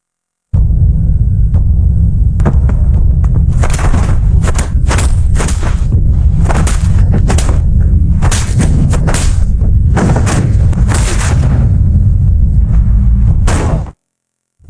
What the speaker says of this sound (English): The sound of gunfire was heard.